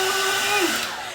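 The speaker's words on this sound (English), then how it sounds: "Take the hairdryer," Hair dryer blows a steady, close whooshing airflow with a whining motor tone that shifts pitch briefly as it is aimed at hairsprayed bangs.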